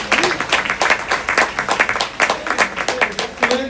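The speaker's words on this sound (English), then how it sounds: "So, give yourself a round of applause" Audience applause at a talk, loud and close with rhythmic clapping that pulses in waves, sounding like a smaller group clapping in near unison.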